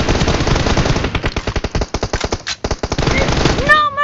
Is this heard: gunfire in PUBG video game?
yes